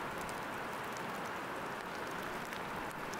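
Steady rain falls in an evergreen forest as a dense, even hiss. It stays constant and fairly close, with no voices.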